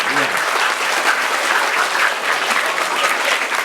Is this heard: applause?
yes